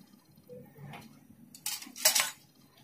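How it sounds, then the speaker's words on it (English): A metal spoon is set onto a small pile of spoons, giving a couple of bright, close clinks after some quiet handling rustle. "we will add one more spoon"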